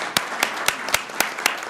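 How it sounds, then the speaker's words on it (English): A round of applause for a city council member's birthday at a Columbus, Georgia council meeting comes across as about seven sharp, evenly spaced claps in a quick steady beat, close and distinct rather than a full crowd. "Let's give him a round of applause."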